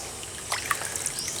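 Water siphoned out of a tilapia breeding tank holding banana leaves, a soft trickling dribble that starts partway through, quiet and close against a faint steady background hum.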